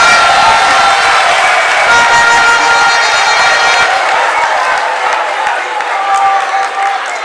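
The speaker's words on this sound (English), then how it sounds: "so the girls should clap for us" A large crowd at a political rally claps and cheers loudly and continuously, a dense wash of applause with voices mixed in, tapering slightly toward the end.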